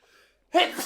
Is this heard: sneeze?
yes